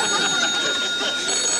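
A telephone bell rings continuously in a steady, bright metallic trill, fairly loud and close, with no clear talk over it.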